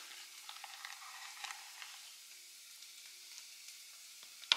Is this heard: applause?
no